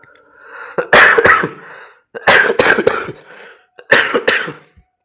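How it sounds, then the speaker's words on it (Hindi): Three bursts of harsh, hacking coughs from a single person, each a loud cluster of rapid coughs with brief pauses between, close to the microphone. "ये खांसी छूट ही नहीं रही है।"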